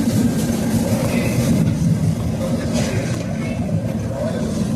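Aboard a Vande Bharat sleeper express running from Howrah toward Guwahati, the train hums and rumbles steadily with faint rail clatter as it rounds a curve, a constant close interior noise with no clear speech.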